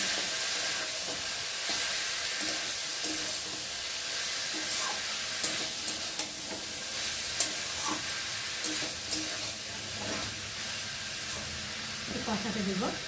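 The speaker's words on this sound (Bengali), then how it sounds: "মশলার সাথে ভালো করে নাড়াচাড়া করে নেবো।" Banana flower and spices stirred in a hot frying pan, a steady sizzle with scraping and clinking of the spoon against the pan, occasional sharper knocks, fairly quiet and close.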